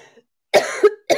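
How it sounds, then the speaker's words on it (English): Two short, sharp coughs after a brief silence, close to the microphone. "I had to cough."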